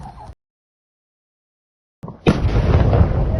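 After a stretch of dead silence, a blast at an ammunition depot erupts with a sharp onset and swells into a loud, sustained roaring rumble, with an earlier brief noise before the silent gap.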